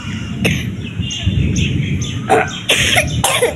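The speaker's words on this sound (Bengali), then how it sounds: "প্রচণ্ড কাশি হয়েছে" A young boy on a rooftop during a storm gives several harsh, close coughs in short bursts, with birds chirping faintly in the background.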